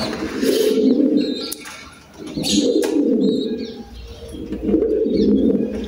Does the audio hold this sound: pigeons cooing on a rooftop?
yes